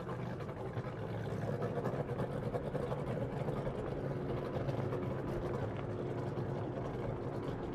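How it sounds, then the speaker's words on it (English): Racing boat engines warming up before a race final at Glenmaggie, a steady dense drone with a rough buzzing texture, fairly loud and continuous, with no speech over it. "I can hear those boats already starting to warm up for the final of the Stano Cup."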